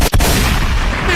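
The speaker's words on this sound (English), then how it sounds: "let's hear the gunshots" A single sharp, loud gunshot blast cracks out near the start and leaves a booming, reverberant tail that rings on for about a second.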